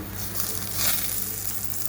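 Steady sizzling of brinjal frying in hot mustard oil, a continuous crackling hiss at moderate level with no voices.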